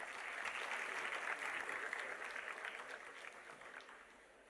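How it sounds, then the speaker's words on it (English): Audience applause at a university day celebration, a steady spread of clapping from a large hall that holds evenly, then gradually fades toward the end, heard somewhat distant and alone. "A round of applause for them."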